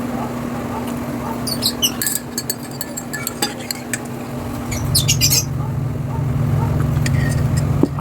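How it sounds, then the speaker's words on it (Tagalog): Birds squawk in short, shrill bursts while bathing, over a steady low hum, with quieter chirps scattered between. "Kasi naliligo nga ibon."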